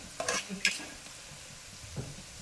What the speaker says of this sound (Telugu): ఉల్లిపాయ బాగా వేగేసి ఇందులో కలిసిపోవాలి. ఆయిల్లో కలిసిపోవాలి